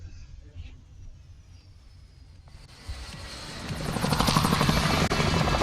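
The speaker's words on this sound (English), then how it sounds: "The choppers, get to the chopper." Helicopter rotors in Call of Duty: Warzone build from a distant hum to a loud, steady chopping wash that dominates the end, with no talk over it.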